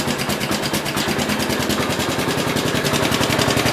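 A 1967 430 engine idles with a fast, steady, even chugging that stays close and loud throughout, with no voices over it.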